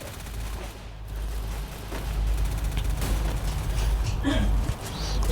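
Rapid bursts of gunfire crackle through a Free Fire match, repeated volleys of shots and automatic fire layered over game ambience, with a player's voice chattering underneath.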